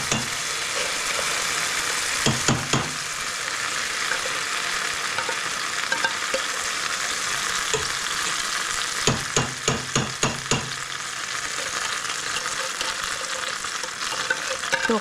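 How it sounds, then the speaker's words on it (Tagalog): Mushrooms fry in a hot pan with a steady bright sizzle, punctuated by bursts of scraping and stirring, close and continuous with no voices. "Para magkaroon ng sizzling sound."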